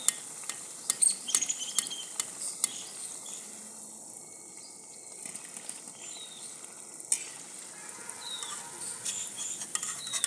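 Gulab jamun fry in oil with a faint, steady sizzle, broken by scattered small crackles and sharp clicks of a utensil nearby, all fairly quiet and with no talking.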